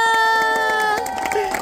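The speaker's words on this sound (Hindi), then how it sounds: "एक बार जोर से ताली मार दीजिए।" A crowd cheers and shouts steadily at a kite tournament prize ceremony, with a sustained tonal drone and scattered sharp claps and bursts of shouting layered throughout.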